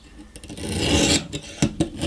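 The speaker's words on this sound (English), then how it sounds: "So we've done the first bevel with the coarsest grit, so we'll just flip it over and hit the other side" A knife edge rasps across a coarse 220 grit stone on a ViperSharp V2 sharpening system, a close, gritty scraping in a few back-and-forth strokes, the longest swelling in the middle before shorter passes.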